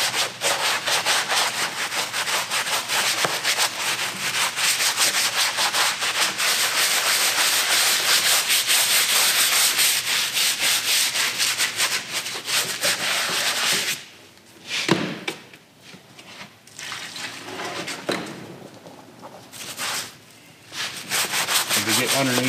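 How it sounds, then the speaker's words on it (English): A brush scrubs hard across a leather saddle in fast, rhythmic back-and-forth strokes, loud and close, then slows into shorter, intermittent scrubs with pauses near the end. "you shouldn't have any problem scrubbing this saddle pretty hard just to get the dirt and stuff off"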